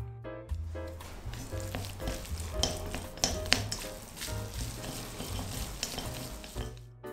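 Chopped glass noodles are tossed with two spoonfuls of cooking oil, making a continuous wet, squishing rustle with scattered small clicks, close and moderately loud over faint background music.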